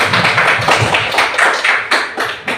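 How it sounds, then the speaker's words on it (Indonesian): A group of teachers clapping their hands, a burst of quick overlapping claps at close range, fairly loud and uneven in rhythm. "Tepuk tangan dulu Bapak Ibu guru"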